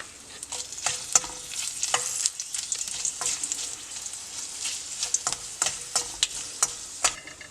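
A torn dried red chili fries in oil for a beetroot chutney while a spoon scrapes and stirs the pan in rapid, irregular strokes over a steady close sizzle.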